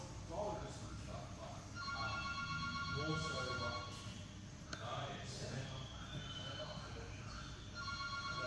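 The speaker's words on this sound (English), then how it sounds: "One thing you can be guaranteed whenever we do these videos is the phone starts ringing." A telephone rings intermittently in a workshop while ropework is being done, its bright trilling bursts fairly faint beneath a busy background of rustling and handling noise.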